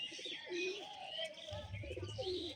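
Pigeons coo softly and repeatedly at close range, low throaty calls over a faint background of higher chirps and murmurs, with no clear talk.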